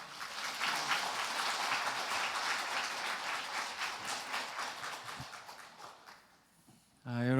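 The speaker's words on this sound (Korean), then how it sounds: "우리 교수님 나오실 때 박수로 함께 크게 환영하겠습니다" A church congregation applauds loudly and steadily to welcome a visiting professor to a Sunday afternoon praise service, the dense clapping holding for about six seconds before fading, then a voice begins.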